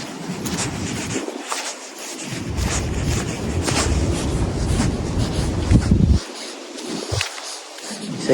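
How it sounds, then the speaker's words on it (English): Strong gusting wind from winter storm Finn buffets the microphone in a steady roar with rustling, swelling and easing over several seconds outdoors. "So yeah, it's windy this morning. It's really windy."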